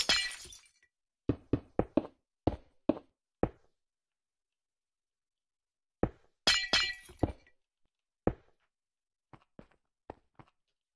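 Glass blocks shatter one after another in the Minecraft video game, sharp crisp breaking sounds in quick clusters separated by silent gaps, some louder and some fainter.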